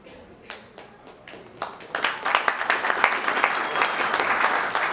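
Audience applause at a televised political candidates' debate, starting as scattered claps and swelling into steady, dense clapping from a seated crowd in a hall.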